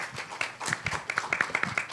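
Audience applause at a League of Women Voters candidate forum for civil and criminal judges, a short spell of close, fairly light clapping with scattered claps.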